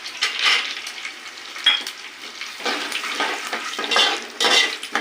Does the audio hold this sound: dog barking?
no